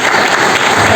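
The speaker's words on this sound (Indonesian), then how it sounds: "Beri tepuk tangan untuk Pak Deddy." Audience applause at an Indonesian national seminar, a dense and loud burst of clapping from a large crowd that fills the whole moment without pause.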